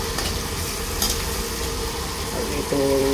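Ingredients sautéing in a pan for Filipino pancit, a steady close sizzle and scrape of stirring running throughout, with a brief clatter near the start and a rising tonal hum toward the end.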